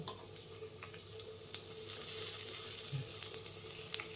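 Kandarappam fries in ghee in a pan, giving a quiet, steady sizzle with faint bubbling crackles and no talking.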